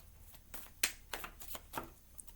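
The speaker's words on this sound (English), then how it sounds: "One more shuffle." Tarot cards being shuffled by hand, heard as a few quiet, soft riffling bursts spaced unevenly, close and faint with no talk.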